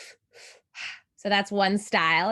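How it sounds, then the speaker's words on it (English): Three-part breathing through the mouth, drawing into the belly then the chest before a release: three short airy breaths, then a voice speaks close up. "It's a 3-part breath. So it happens through the mouth."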